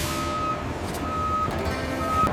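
A refrigerated truck backs up, its reversing alarm sounding three evenly spaced steady beeps over a low idling engine rumble, moderately distant.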